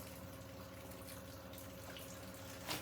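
Water runs out of a newly plumbed line at an off-grid log cabin homestead, a faint steady rushing flow with a brief louder splash near the end, no talking.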